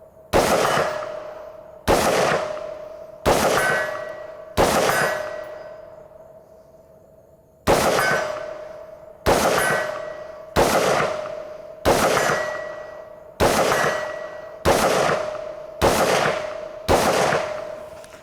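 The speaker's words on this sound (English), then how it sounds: "we moved back here to 100 yards just to take some shots at that steel downrange" Rifle shots fired at a steel target 100 yards downrange. About a dozen loud, sharp reports come at a steady pace, each followed by a ringing metallic ping from the hit steel.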